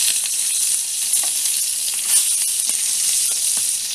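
Stuffed green chillies fry in an uncovered pan, producing a loud, steady, bright sizzle with a few soft scraping and stirring knocks, close and uninterrupted, with no voices.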